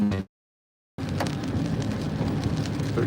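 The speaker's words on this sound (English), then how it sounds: "It is raining." Steady rain hisses outside a car, a dense even wash after a brief moment of silence, with no voices present.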